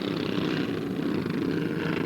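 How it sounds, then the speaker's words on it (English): Racing kart engines at a 1993 club race, heard as a dense, continuous drone from several engines. The sound is loud and steady with a fluttering buzz, and no talk. "You can see him blipping the throttles as they're going down the back straight"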